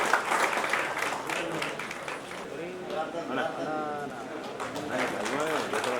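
An audience claps steadily and loudly at a ceremony marking the centenary celebration of poet Dasarathi in Mahabubabad, a dense wash of applause that continues throughout with voices mixed in.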